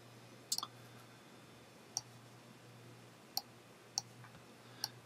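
Sharp computer mouse clicks on a desk, a quick cluster of three near the start followed by single isolated clicks spaced about a second apart, crisp and close over a steady low electrical hum.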